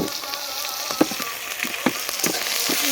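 Shrimp frying in hot oil for a gourd-leaf and shrimp mash, a steady close sizzle with a few sharper crackles and pops scattered through, no voices.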